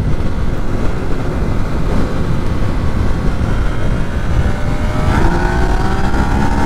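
Loud, close Yamaha MT-09 (2019) motorcycle pulling hard in third gear toward top speed, a steady dense engine roar with rising tone as revs climb, no talk.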